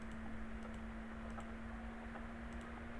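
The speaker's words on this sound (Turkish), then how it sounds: "klavye sesleri buraya kulağıma kadar geliyor" Faint, irregular keyboard clicks tapping away over a steady electrical hum and constant background noise.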